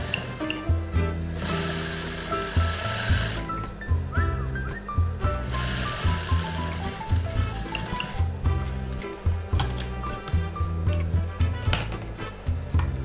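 A sewing machine stitches the upper part of a two-colour tunic in rhythmic bursts of mechanical chatter with short pauses between runs, close and steady.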